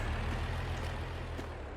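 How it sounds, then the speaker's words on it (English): Truck passing by in a farming video game, a loud, low engine rumble heavy in the bass that stays steady and close over the short span. "wait for the truck to go by"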